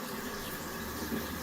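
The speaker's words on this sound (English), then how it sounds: "Now let's see if I release some water" Water runs through a ThermoMate 3.5kW tankless electric water heater as a steady, quiet hiss of flow with no breaks or other sounds.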